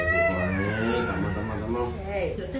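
A cat at the vet gives close, drawn-out, wailing meows that rise and fall in pitch, one continuous complaint after another.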